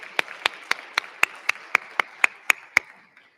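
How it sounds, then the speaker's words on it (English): A single pair of hands claps about eleven times in a steady, even rhythm, crisp and fairly close, for seventh-place winners at a regional senior science and engineering fair awards ceremony. "A big round of applause for all of our 7th place winners."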